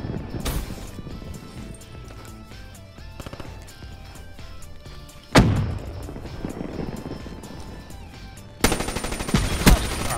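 Black Ops 3 gunfire rings out in sharp bursts, with a loud shot early, another heavy report near the middle and rapid shots toward the end over busy game sounds.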